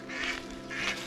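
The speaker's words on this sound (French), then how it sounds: "Le canard vient de s'envoler." A duck at the Domaine des Oiseaux bird park gives two close, harsh quacks in quick succession.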